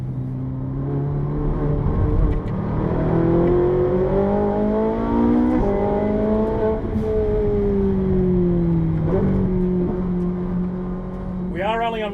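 A car on a race track on road tyres, its engine climbing through the revs in steady rising pulls broken by quick upshifts, loud and close from inside the cabin, with someone talking over it.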